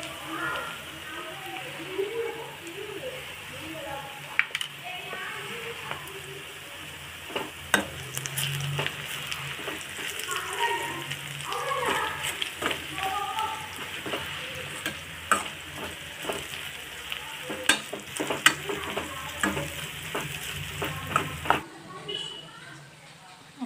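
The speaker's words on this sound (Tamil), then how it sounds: "நல்லா பொன்னிறம் வர வரைக்கும் நல்லா வதக்கணும்." Ingredients for Chennai masi sambal sizzle steadily in a pan and are stirred with frequent clinks and scrapes, a soft continuous frying hiss that runs under a voice.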